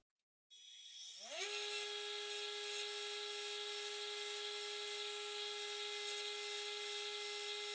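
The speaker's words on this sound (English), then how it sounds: "I'm going to clean these up on the bench grinder" A bench grinder spins up from silence with a rising whine, then holds a steady, loud high-pitched tone while cleaning crusty bolts from a 40hp Johnson outboard, with faint grinding texture and no talk.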